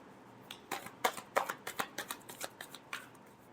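Tarot cards being shuffled by hand, a quick run of crisp riffling snaps and flicks in an uneven rhythm, close and fairly quiet with no talking.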